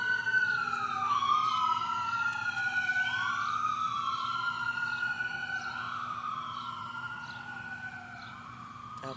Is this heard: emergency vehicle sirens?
yes